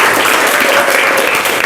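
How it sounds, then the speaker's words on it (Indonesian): Dense, continuous audience applause fills the whole short stretch at full loudness, a steady wash of many hands clapping without pause or a break in the crowd noise. "Tepuk tangan dulu ya."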